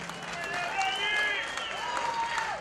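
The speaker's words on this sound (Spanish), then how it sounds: "Fuerte el aplauso" An audience at a provincial festival's 25th-anniversary show applauds under loud voices calling out and cheering, a continuous crowd din over nearly three seconds.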